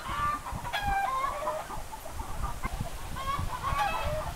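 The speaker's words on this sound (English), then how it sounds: "I'm right next to my chicken coop, and they are just going off" Several chickens cluck and squawk close by in a coop, with a rooster-like call rising now and then over a steady busy background.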